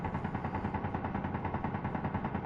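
A settlement gun turret in the game Crashed on Mars fires a steady stream of rapid rounds, a dense continuous rattle at even loudness that fills the whole stretch, with no talk over it.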